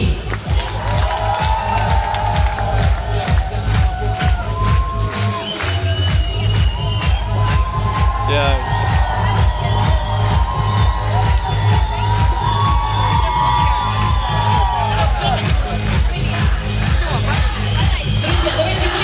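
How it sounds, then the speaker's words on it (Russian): Outdoor crowd at a Seliger 2012 youth forum event applauding and cheering to welcome five young families, continuous clapping and shouts layered over loud rhythmic music playing throughout. "под аплодисменты давайте встретим 5 молодых семей"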